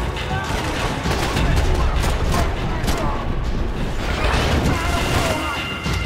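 AK rifle gunfire in the game Max Payne 3, dense continuous rattling bursts and booms for several seconds, loud and close, with someone talking over the shooting.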